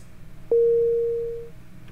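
A single steady synth tone from Sonic Pi at note 70, default settings, sounding cleanly for about one second and then cutting off, alone with no talking.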